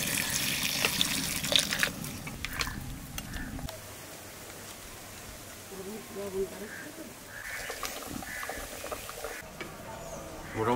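Boiling hot water is poured into a pot of mutton and potato curry. The pour gurgles and splashes at close range, and a voice talks over it.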